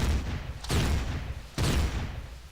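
Gunfire in the video game Empyrion: two heavy, booming bursts of shots about a second apart, each a sharp blast with a rumbling decay, loud and close.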